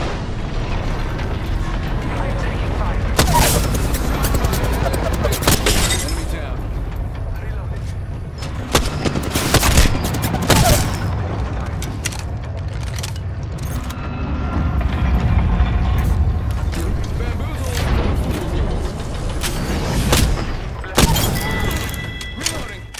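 Bursts of video game gunfire crack out in repeated loud volleys over a busy low rumble, mixed with thuds and impacts, while in-game voice callouts speak throughout.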